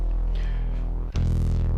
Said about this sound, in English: There's the sound of my bass on synth.